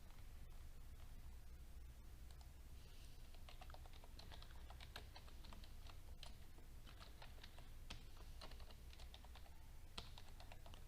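Steady typing on a computer keyboard during a spreadsheet exercise, with quick irregular key clicks running throughout over a faint hiss of background noise, no voices.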